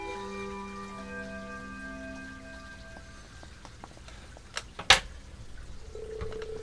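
Rain falls in the video game Trails of Cold Steel as a steady, soft patter under sustained musical tones, with a few sharper clicks and one brief louder hit near the end; no one speaks.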